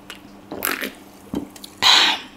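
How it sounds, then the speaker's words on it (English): Wet chewing and slurping of chewy carbonara fire noodles at close range, in a few separate bursts with short pauses, no talking. "The carbon noodles are chewy."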